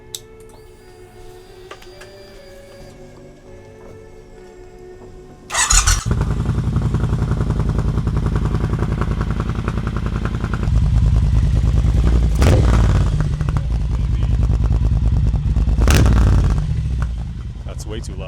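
Triumph Bobber motorcycle with engine performance mods, starting up after a quiet stretch and then running very loudly and close, its deep throbbing exhaust swelling with throttle blips before easing slightly near the end.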